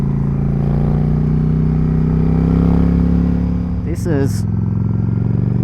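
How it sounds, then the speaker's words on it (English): A Yamaha XVS 1100 V-Star motorcycle engine runs with a loud, steady, deep low rumble, and someone speaks briefly over it near the end. "It's reasonably loud bike. It's certainly not the loudest bike I've owned."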